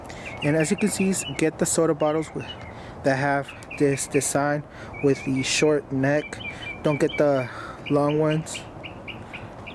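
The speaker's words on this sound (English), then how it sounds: "can you hear that bird singing?" A bird sings in a home garden, its calls faint and partly buried beneath steady nearby talking throughout.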